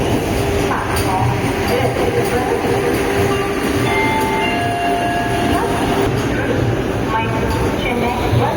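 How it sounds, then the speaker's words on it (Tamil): A Mysore–Chennai Vande Bharat Express stands at a station platform amid a continuous rumbling rail-yard din, with faint squeals and announcements blended into the busy background. "மைசூர் சென்னை வந்தே பாரத் எக்ஸ்பிரஸ் மைசூர் ನಿಲ್ದಾಣದಿಂದ ಚೆನ್ನೈ ನಿಲ್ದಾಣದ ತನಕ ಹೋಗುವ"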